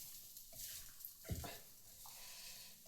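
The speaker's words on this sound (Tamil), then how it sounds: "இப்போ வந்து மிக்ஸ் பண்ண வேண்டியதான்." A ladle stirring egg rice in a pan gives a few quiet scraping strokes and soft clinks, spaced irregularly against a low, hushed kitchen background.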